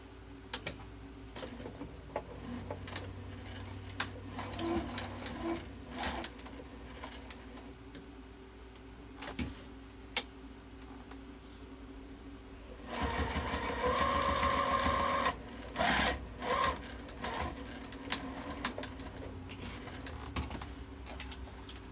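A sewing machine top stitches a fabric wallet, with scattered clicks and handling taps, then a loud burst of rapid, buzzing stitching mid-way, followed by more short clicks.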